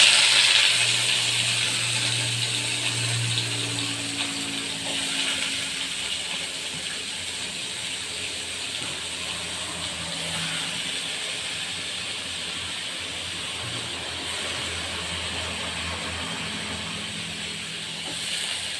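Cut elephant foot yam pieces hit hot oil with popped mustard seeds, giving a steady close sizzling hiss that is strongest at first and then settles into an even fry.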